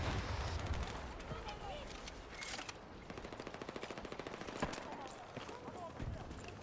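Light machine gun fire in Battlefield 6 during a Breakthrough defense match, rapid rattling bursts with dense battlefield noise and explosions around, moderately loud throughout.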